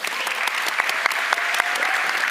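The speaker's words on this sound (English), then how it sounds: "Round of applause, please." Audience applause at a youth policy summit panel, dense and steady clapping throughout with a few sharper individual claps standing out, fairly close and full.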